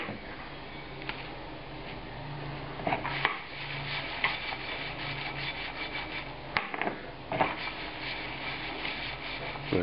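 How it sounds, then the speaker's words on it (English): Potato pieces are turned and coated in melting butter in a hot pan, giving a steady close scraping and rubbing texture with occasional sharper knocks of utensil on metal and no talking. "I'm going to coat all these potato pieces in the butter."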